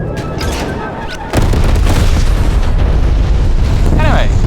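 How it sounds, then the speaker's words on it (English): A loud, sustained roar of napalm strike explosions erupts in Call of Duty Cold War, a sudden boom at about one second swelling into dense continuous rumbling blasts, with game voices and effects mixed underneath. "the game's very loud, you know, with the explosions and everything else"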